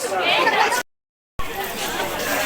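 Busy crowd chatter on the Jejuri fort temple steps, close overlapping voices of many people, broken by a short silent gap before the babble resumes.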